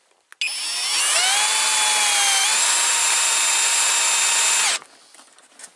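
Skil 3071 cordless drill boring a hole, a sharp whine that rises and holds steadily for about four seconds before stopping abruptly, close and loud with no talking.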